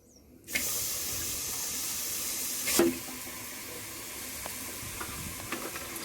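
Chicken hits a hot clay pot with no oil and starts sizzling, a steady crackling hiss with a brief louder burst midway, then settling into a constant fry.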